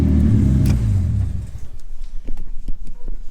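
A Nissan Skyline R32's engine rumbles loudly with a low, steady idle, then cuts off, leaving faint clicks and small knocks.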